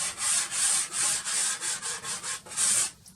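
Soft pastel is rubbed back and forth across paper to work sky blue into a landscape sky, a close, dry scraping in a steady series of about ten strokes with no talking.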